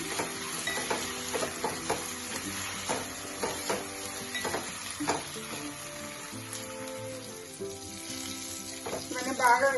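Tindora pieces frying with chopped coriander in a pan, a steady close sizzle with stirring clinks and scrapes throughout, no talking.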